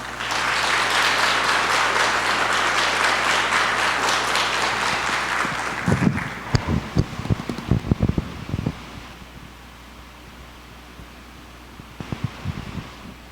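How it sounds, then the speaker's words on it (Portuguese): A church community gives a welcoming round of applause, a broad steady clapping wash that thins into scattered claps and fades out. "Desde já, querido Padre Djalma, receba o carinho da nossa comunidade com uma grande salva de palmas."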